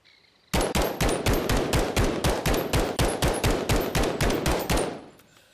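Rapid, evenly spaced gunfire from the LM-S rifle in the virtual reality game Bonelab, about seventeen sharp shots in steady rhythm over four seconds, loud and close, then a brief fading tail.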